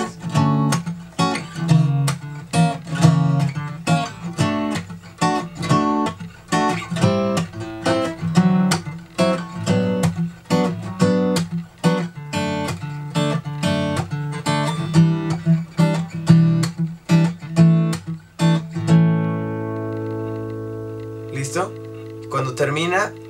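Guitar strums the chorus chords of a song, steady close rhythmic strokes over a repeated progression for about twenty seconds, ending in a sustained ringing chord.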